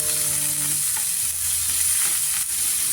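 Ground beef browns in a pan for a giniling dish, giving a steady, loud sizzle with a few stirring scrapes near the start and no voices.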